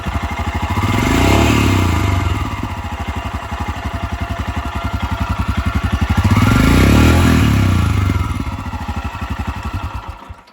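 Stock-exhaust single-cylinder engine of a Royal Enfield Scram 411 motorcycle, heard close up as a steady thumping idle that swells into two throttle blips around two and seven seconds before settling back down.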